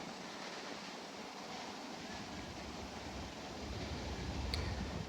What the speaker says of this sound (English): And I apologize again for the wind.